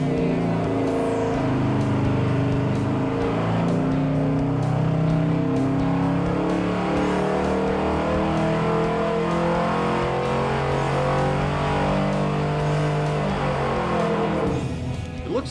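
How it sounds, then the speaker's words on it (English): A Yenko Camaro engine revs hard and steadily at high load on a dyno, a loud sustained roar that climbs and holds, then tapers off at the end. "it's time to put this car's engine to the test"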